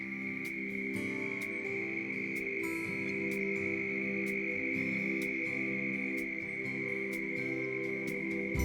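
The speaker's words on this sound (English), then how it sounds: "You may not have ever seen these toads if we hadn't heard them first." Toads call in a continuous trilling chorus at a breeding pond, a dense, steady buzz of many voices with brief clicks scattered through, heard alone without talk.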